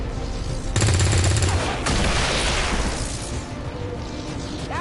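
Gunfire in XCOM 2, a loud burst of rapid automatic fire followed by a heavier blast that fades into a decaying rumble, set against a low background hum.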